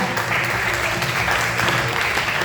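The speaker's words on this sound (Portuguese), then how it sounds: "Dê uma salva de palmas para Jesus." Congregation at a Portuguese-language church service claps in sustained, dense applause that fills the whole moment, steady and loud with no pauses.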